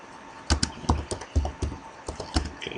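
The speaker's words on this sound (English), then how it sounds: "Okay, so let's just type in here." Keys on a computer keyboard are typed in a short, uneven run of crisp clicks and taps, close and clear in a quiet room.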